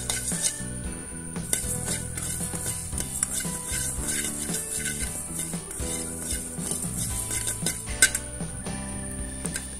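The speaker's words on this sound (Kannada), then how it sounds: "ಈಗ ಒಂದೊಂದಾಗಿ ಎಲ್ಲವನ್ನು ಹಾಕೊಂಡು ಹುರ್ಕೊಬೇಕು" Ground spices being roasted in a pan for chicken sukka, with steady stirring, metallic scraping of utensil on pan and soft sizzling, moderately close with background music and no talk.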